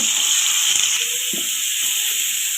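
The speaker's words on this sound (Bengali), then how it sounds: "ওই তেলের মধ্যে আমি আলু দিয়ে দিব। এক এক করে আমি সবজিগুলো দিয়ে দিব, দিয়ে ভেজে নেব।" Potatoes and mixed vegetables fry in hot oil for a Bengali-style niramish mix veg dish, a steady close sizzle and hiss running throughout with faint stirring clatter beneath.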